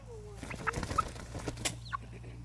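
A chicken in a coop clucks and squawks in quick, close bursts over a steady low hum, with several short sharp calls packed into a couple of seconds.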